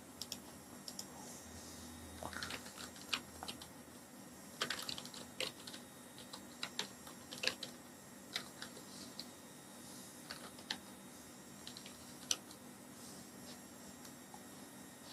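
Typing on a computer keyboard, with quiet, close key clicks coming in irregular bursts over a faint steady hum, no voice over them.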